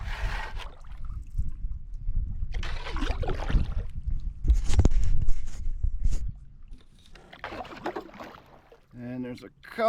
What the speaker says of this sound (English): we'll paddle back out into the main body of the reservoir